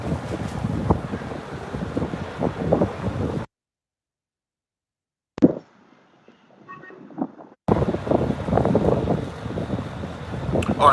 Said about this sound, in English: it's a little windy, a little breezy. I'm out here on the balcony